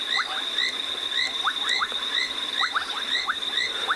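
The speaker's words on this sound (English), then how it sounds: "we've been enjoying the sounds of the frogs here" Many frogs call at night in wet South African bush, a dense chorus of short, high, repeated chirps and clicks over a constant thin ringing tone, steady and moderately distant, with no voices.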